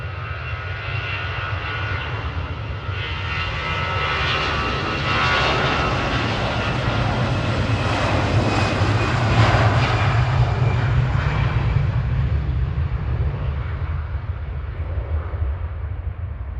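EasyJet airliner jet engines at Manchester Airport at dusk, a loud steady roar with broad rumble that swells toward the middle and fades slightly, continuous throughout with no talk.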